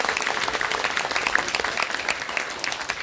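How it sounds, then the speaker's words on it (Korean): An audience at a Sonamudang party launch event applauds steadily with dense, even clapping for about three seconds, heard from within the crowd with no voices over it. "박수 부탁드리겠습니다."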